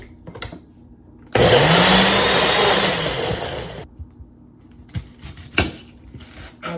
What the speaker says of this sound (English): So I'm just gonna blend this.